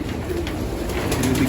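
Young pigeons coo softly inside a loft aviary, a brief close murmur of several birds' low calls.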